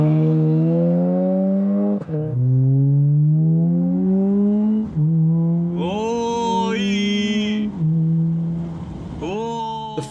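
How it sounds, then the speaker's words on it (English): A four-cylinder sports car engine revs repeatedly, its deep, rorty exhaust note climbing through the gears, with sharp pauses between pulls, loud and close. "producing a deep, rorty exhaust note reminiscent of the Volkswagen Golf R or a Mercedes-AMG CLA 45"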